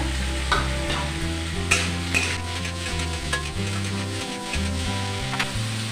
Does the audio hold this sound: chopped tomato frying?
yes